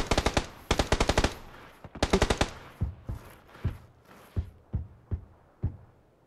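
Video game gunfire crackles in rapid automatic bursts that give way to single shots spaced about half a second apart, loud and close with no voices.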